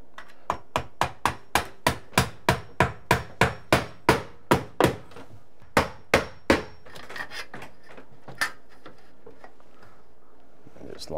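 Drywall nails are hammered into a stairwell storage area during a renovation. About twenty sharp, evenly spaced blows land close and loud, then the pace slows into a few scattered knocks, with some quiet talk toward the end.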